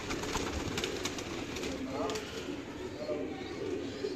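Pigeons kept in a breeding setup coo softly amid a dense, steady wash of background noise, while someone talks over them throughout.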